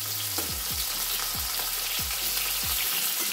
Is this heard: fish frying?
yes